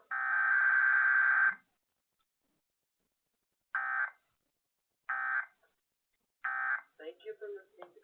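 Emergency Alert System test tones from a radio station broadcast: a long sustained two-tone attention signal followed by three short repeated bursts, then a brief warbly segment, loud and clear with silent gaps between.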